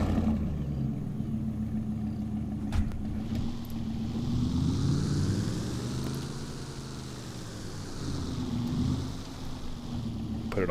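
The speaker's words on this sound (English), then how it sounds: "now I need to move that truck." A farm truck idling and being driven across a field, with a steady low engine rumble that rises and falls as it moves, heard close by with some background noise.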